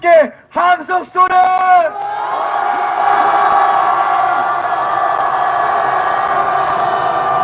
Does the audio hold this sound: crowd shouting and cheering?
yes